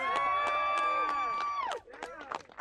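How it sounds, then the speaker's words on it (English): Crowd at a Green New Deal climate justice rally cheers and whoops loudly for New York public housing residents bussed in from Queens and the Bronx, a dense sustained burst that fades after about two seconds into scattered voices and claps. "I want to give them a big round of applause."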